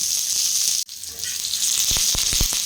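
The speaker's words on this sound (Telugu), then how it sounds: "కొంచెం వెల్లుల్లిపాయ కొంచెం కరివేపాకు వేసుకొని ఫ్రై చేసుకోండి" Garlic and curry leaves dropped into hot oil on a low flame give a loud, continuous close-up sizzle and hiss, briefly cut off once, then resuming with a few sharp crackling pops near the end.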